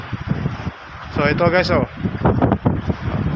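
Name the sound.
strong wind at sea on a boat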